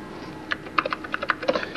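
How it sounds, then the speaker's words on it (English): Several quick keystrokes on a computer keyboard, irregular light clicks at close range in a quiet room, with no talking. "Now I'm typing in something"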